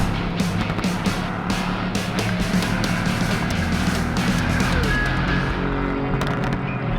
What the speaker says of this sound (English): 2018 Mercedes-AMG GT C Roadster